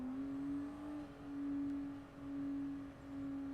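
Race cars in a 24 Hours of Le Mans racing game drone steadily at a distance, their engine whine rising and falling in smooth waves as they lap.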